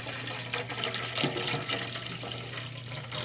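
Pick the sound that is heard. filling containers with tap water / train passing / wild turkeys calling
filling containers with tap water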